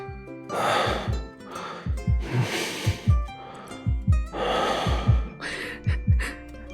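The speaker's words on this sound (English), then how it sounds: "It's almost heavy breathing" Close, heavy breathing in the romance game Love and Deepspace, a run of sharp gasping inhales and breathy exhales in an uneven rhythm, each breath loud and near with no talking over it.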